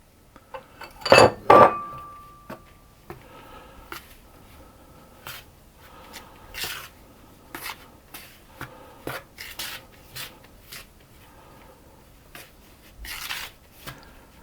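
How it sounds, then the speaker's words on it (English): A spoon scrapes and knocks against a bowl while cheese is stirred into a garlic and chive scone mixture, with two sharp clinks early on followed by a string of lighter, irregular scrapes. "So I'm going to take my cheese, put that in, and I'm going to stir that around."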